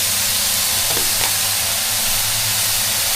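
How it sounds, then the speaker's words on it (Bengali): Broccoli and mushrooms fry in a pan over medium heat, giving an even, continuous sizzling hiss with a couple of faint clinks or stirs partway through. "এবার এটাকে মিডিয়াম আঁচে রেখে একটু ভাজতে হবে।"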